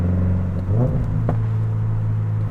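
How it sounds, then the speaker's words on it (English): A Subaru BRZ / Toyota GR86 engine drops from fourth to third gear: a steady low drone from the cabin that lifts in pitch at the shift and then holds a higher, even hum. "Yeah, that fourth to third shift."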